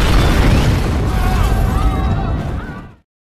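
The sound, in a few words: bomb explosion in the film Don 2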